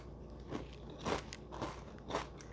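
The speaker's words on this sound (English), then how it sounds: "So first thing I want to do, of course, is try my Sun Chips" Someone bites and chews Sun Chips, giving about four close, crisp crunches spaced roughly half a second apart over quiet background.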